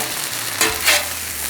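Chorizo sizzles in a frying pan as it gets spread out, a soft steady fry with two brief swells of scraping and stirring, close and alone.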